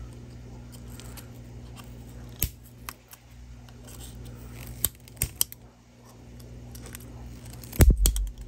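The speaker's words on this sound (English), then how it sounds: "We're just gonna snip this fan." Scissors snip through a paper fan template with a handful of separate close cuts spread out over several seconds, quiet handling between them and a louder cluster of crisp snips at the end. No one speaks.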